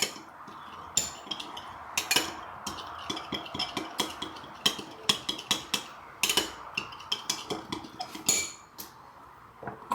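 Clattering pots, pans and metal utensils while noodles are being cooked at home, a busy run of sharp clinks and knocks at an uneven rhythm, close and fairly loud, with no talking.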